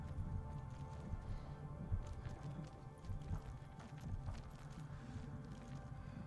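Horse hooves clip-clop in the video game Ghost of Tsushima, a quiet, steady rhythm of hoofbeats with a low ambient bed behind them.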